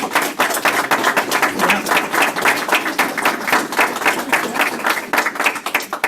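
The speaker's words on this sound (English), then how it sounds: "I think we need a round of applause" Audience applause at a talk on relationships and service: dense, sustained clapping from many hands, fairly loud and steady for six seconds with no speech over it.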